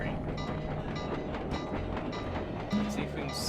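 Train ride in the video game Sly 2, with a steady rumbling rail ride and faint clickety-clack running throughout, heard at moderate level alongside game sounds.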